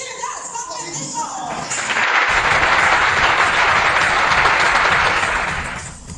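Loud crowd cheering and applause swell up at a university cheer dance competition, a dense roar of clapping and shouting that builds after a couple of seconds, holds strongly, then tapers near the end.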